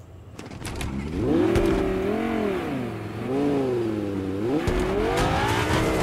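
A car in the Fortnite video game revs and accelerates, its engine pitch swooping up and down in several waves, fairly loud and close with a few short clicks over it.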